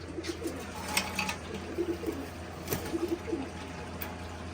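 Soft, low pigeon cooing repeats in gentle throaty phrases against light background noise, with no talking.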